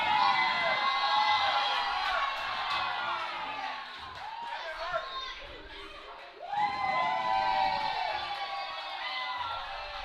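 A wrestling crowd at a country-music-themed tag event cheers and whoops loudly and steadily, swelling again near the end, with shrill children's shouts and a commentator's voice over the noise.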